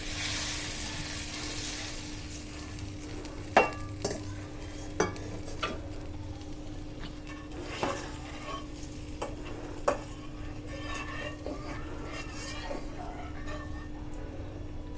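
A spoon stirs vermicelli in milk in a pot, scraping softly with occasional sharp clinks against the metal over a steady low hum.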